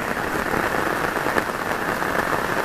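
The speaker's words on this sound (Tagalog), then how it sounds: "3 araw yata ulan." Steady, heavy rain pours down during flooding in the Philippines in a continuous dense hiss, unbroken throughout with no voices.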